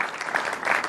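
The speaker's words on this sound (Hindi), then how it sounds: "इनके सम्मान में जोरदार तालियां इस अभिनव कला के लिए" Enthusiastic applause from an audience at a seminar in honour of a Lippan art piece, a dense continuous patter of clapping hands throughout.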